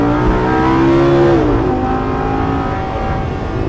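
Lamborghini Gallardo LP560 on track at Circuit du Grand Sambuc, heard onboard as the engine revs up hard, a loud, steady rising roar that dips briefly as it shifts, then pulls on continuously.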